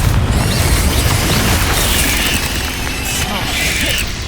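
A Confringo spell blast in Hogwarts Legacy gameplay hits as a loud, broad burst that keeps crackling and rumbling without a break for several seconds.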